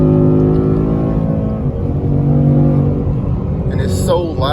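A stock 2020 Ford Mustang GT with a 10-speed transmission, heard from inside: a loud, continuous engine drone with layered harmonics that shift as revs change, close and dominant, with a voice briefly near the end.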